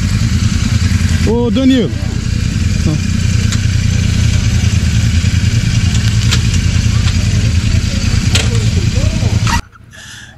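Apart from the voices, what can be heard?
motorcycle engine starting and idling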